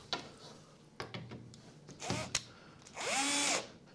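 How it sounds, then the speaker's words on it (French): A power drill drives screws into the groove of a wooden door-frame casing. Short quiet taps and scrapes lead into two brief whirring bursts of the drill, the longer one near the end, heard close up and alone. "que je vais visser en fond de rainure de mon contre-chambranle"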